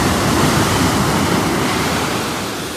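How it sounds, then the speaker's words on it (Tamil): Rough sea waves crash onto a Kerala shore, a loud, continuous broadband roar of surf close by, steady throughout with wind noise and no voices. "இந்த கடலோட சீற்றத்தை பாருங்கள்."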